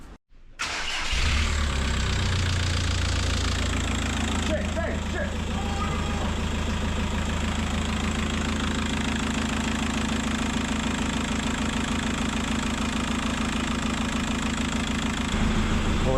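A VW Golf MK4 1.9 TDI PD130 diesel cranks briefly, then catches and settles into a loud, steady, clattering idle close by that runs on uninterrupted.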